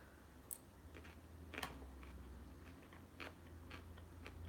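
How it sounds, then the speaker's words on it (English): Broccoli is bitten and chewed close up, several sharp crunches at irregular intervals over a quiet background with a low hum. "The crunch of the broccoli."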